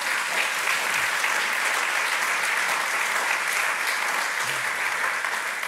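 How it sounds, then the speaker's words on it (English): Steady, dense round of applause from a large audience at the official opening of an institute at a university's academic-year ceremony, continuous and even throughout with no pauses. "Round of applause gets in ahead of me."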